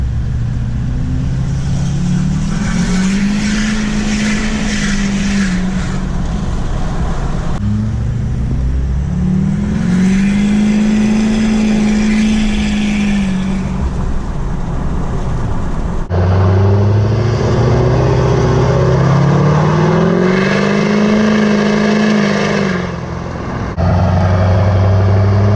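A Duramax diesel truck with a straight-pipe exhaust accelerates hard in repeated pulls, its loud, deep exhaust note rising through each gear before shifting, heard up close without talking.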